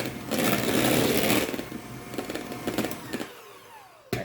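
Electric mixer whipping egg whites with cream of tartar in a bowl, a loud buzzing whir with rattling beaters that eases off and then stops, ending in a brief clatter.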